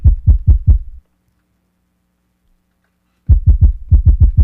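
Hip hop drum beat played on an Akai MPC 2000XL with one EQ frequency cut away: a burst of heavy, boomy low hits, then about two seconds of silence, then the pattern punches back in loudly.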